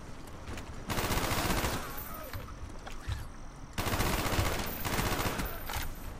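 Minigun fire in a Black Ops mod: long sustained bursts of rapid automatic gunfire from rooftop guns, two loud stretches separated by a quieter gap with scattered shots.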